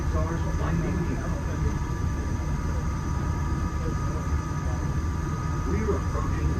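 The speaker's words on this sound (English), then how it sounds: "We're approaching the Epcot monorail station." A Walt Disney World monorail approaches the Epcot station, heard from inside the train as a steady low rumble and hum, fairly quiet.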